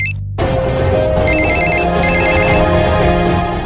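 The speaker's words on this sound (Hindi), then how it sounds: "किसी का फोन बजा।" A loud electronic phone ringtone plays a repeating warbling melody, close and clear, with no voices over it.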